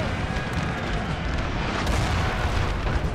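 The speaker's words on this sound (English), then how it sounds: "And their cannons are now roaring." Cannons roar across a battlefield in Napoleon: Total War, a dense, continuous low rumble of artillery with steady booming texture and no clear gaps, loud and sustained throughout.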